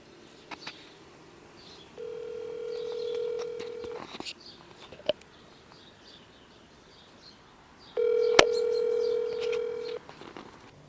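Two long electronic ringback tones sound on a phone call, each lasting about two seconds and separated by several seconds of near silence with faint clicks.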